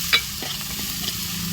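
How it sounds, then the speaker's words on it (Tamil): Garlic, onion and curry leaves sauté in a pan over a wood-fired stove for fish curry, giving a steady close sizzle with a few sharp scraping stirs near the start and middle, and no voices. "பூண்டு, வெங்காயம், கருவேப்பிலையை நன்கு வதக்கவும்."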